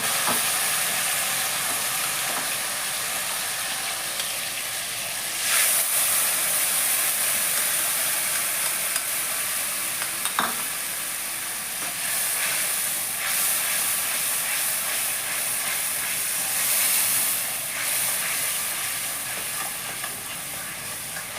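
Yogurt spice paste frying in a pan for a Kalindi fish jhol, a loud continuous hiss and sizzle with occasional stirring scrapes and a few sharp clinks.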